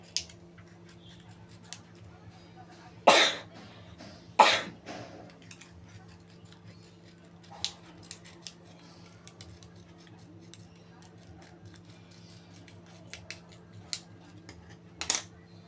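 Scissors cut into a used plastic mineral water bottle, giving a few sharp, crisp snips separated by quiet pauses and some faint handling ticks against a low background hum.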